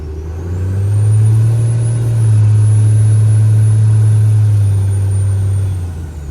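A rebuilt Cummins diesel truck engine drones steadily at a stuck throttle of about 2,000 rpm, a loud, constant, close-up hum holding for several seconds, with no voices.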